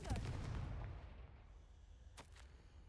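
Confringo fire spell going off in a Hogwarts video game: a loud, booming blast that fades out over about a second, followed by two sharp, quieter cracks, with no one talking over it.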